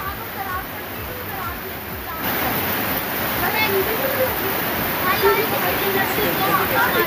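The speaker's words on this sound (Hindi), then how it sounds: "ऋषिकेश में भी नदी उफान पर है" The flooded river at Rishikesh, swollen by heavy monsoon rain in Uttarakhand, roars as a dense, constant rush of water, loud and unbroken, with a voice speaking over it.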